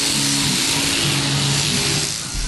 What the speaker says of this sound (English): The buzzing of electric clippers.